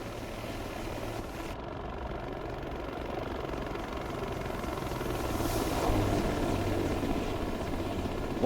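A video-game helicopter flies along with a steady, loud rotor and engine drone that runs unbroken throughout, swelling slightly toward the end, with no voices.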